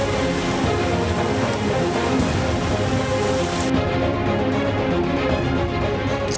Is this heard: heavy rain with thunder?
yes